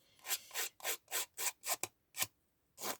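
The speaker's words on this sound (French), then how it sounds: "on gratte un petit peu le papier" Repeated rhythmic scraping of paper during card making, about nine close, dry rasping strokes with short pauses and a longer gap near the end.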